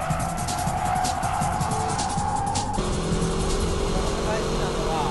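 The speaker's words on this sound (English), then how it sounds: "Let's check out the braking drift." A car performs a braking drift, with a continuous engine and road roar that shifts in tone partway through as the weight transfers, heard from a distance and fairly steady.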